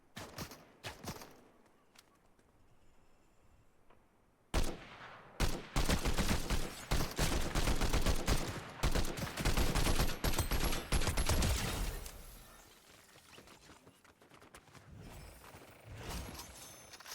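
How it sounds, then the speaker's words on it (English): A Fortnite combat assault rifle fires in a long run of loud, rapid, close shots after a few scattered quieter shots, then the firing tapers off into fainter distant shots. "Okay, combat assault rifle."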